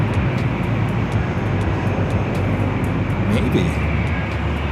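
A Boeing 747 airliner turning near LAX airport, heard as a steady, broad engine roar at moderate distance with surrounding traffic rumble, while a person briefly speaks over it.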